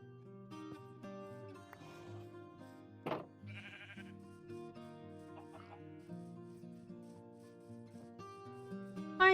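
Faint bleating from a brown sheep in Minecraft version 1.20, a few short calls over a soft background of game music, with no talking.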